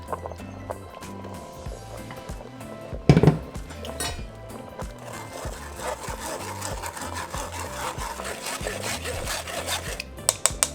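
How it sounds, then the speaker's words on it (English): Chile sauce for menudo is pushed through a strainer into a pot, giving continuous close scraping and rubbing with a sharp clatter near the start and light clinks later. "once our sauce is done, we're going to strain it into our pot"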